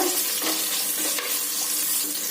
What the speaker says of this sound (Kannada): ನೋಡಿ, ಈರುಳ್ಳಿ ಚೆನ್ನಾಗಿ ಫ್ರೈ ಮಾಡ್ಕೊಳ್ಳೋಣ.